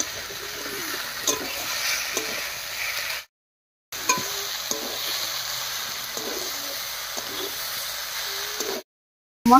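Vegetables frying with ground spice paste in a pan, giving a steady, close sizzle with stirring scrapes, broken by two brief silent gaps.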